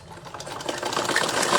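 A sewing machine stitches salwar fabric in a fast, steady mechanical whir that grows slightly louder over a short run, with no talking.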